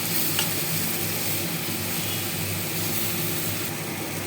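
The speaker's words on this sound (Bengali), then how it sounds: "মশলাটা ভালো করে কষিয়ে নিচ্ছি" Garlic paste masala with Kashmiri chili powder frying in a pan, a dense continuous sizzle and sputter with scraping stir sounds, loud and close throughout; no voices.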